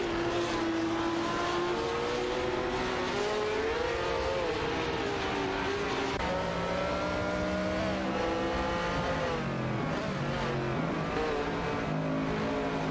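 Race cars in a racing video game, among them a Ferrari 712 and a March 707 Chevrolet, with engines droning and revving steadily at high pitch, shifting up and down as the cars accelerate, continuous and close with no voices.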